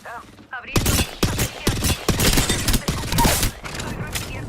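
Rapid bursts of video game gunfire striking the player, loud repeated shots in quick volleys, with a voice speaking in the background.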